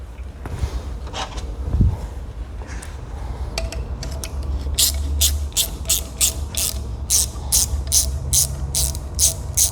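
A strap is worked off a Tesla large drive unit being rebuilt, giving a run of quick ratchet-like clicks that start sparse and settle into a steady, close, regular series of sharp ticks over low background hum.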